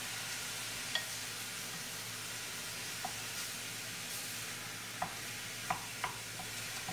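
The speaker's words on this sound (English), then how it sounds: "To let these onions and the mushrooms cook down and get soft." Onions and mushrooms cooking down in a pot for dairy-free cream of mushroom soup, giving a steady low sizzle with a few faint clicks and taps, alone without talk.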